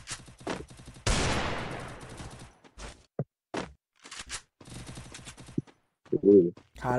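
Gunfire in the mobile battle royale game Free Fire during a ranked match: a loud burst of shots rings out near the start, followed by scattered sharper reports and brief game sounds, with speech around them.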